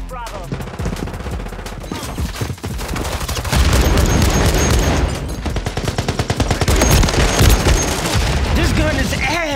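Rapid automatic weapon fire in the multiplayer shooter Call of Duty: Modern Warfare 3, loud dense bursts of gunshots with booming impacts, continuous and close, with game sounds layered over it.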